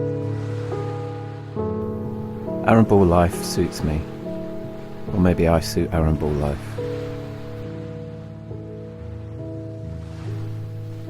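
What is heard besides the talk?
waves lapping on the shore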